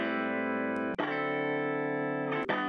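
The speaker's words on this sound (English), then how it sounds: "So some distortion, some slap delay, some vibrato as well." A sustained, heavily slowed tone with gritty distortion, a quick slapback echo and wavering vibrato, briefly dipping twice before swelling back.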